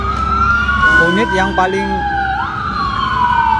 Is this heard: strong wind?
no